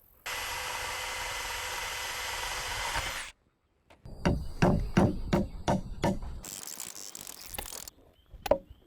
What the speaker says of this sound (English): Now I'm going to drill a hole in the feet, put this rebar in it.